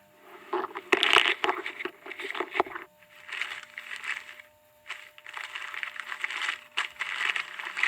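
Crinkling and crushing of packaging as a boxed specimen, a human skull from an archaeological dig, is unwrapped; close, irregular rustles and sharp crackles in bursts with brief pauses.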